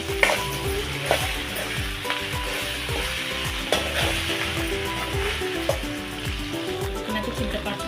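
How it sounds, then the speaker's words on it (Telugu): Okra curry stirred in a hot pan with salt and coriander, a continuous loud sizzle broken by frequent scraping and clinking strokes of a ladle, close and busy. "ఒకసారి గంటతో మిక్స్ చేసుకోవాలి"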